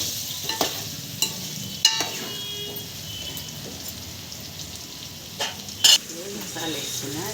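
Ground masala frying and being stirred in a pan for Telangana-style stuffed brinjal curry, a steady soft sizzle with scattered spoon scrapes and clicks, close and fairly quiet, with no talking.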